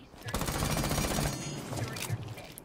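The Roni submachine gun firing in Rainbow Six Siege, one loud, rapid automatic burst of shots that starts abruptly and fades after about two seconds, with some talking around it.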